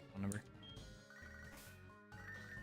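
A Pokémon game's in-game phone ringing, a bright electronic trill with short repeating tones over game music, fairly faint.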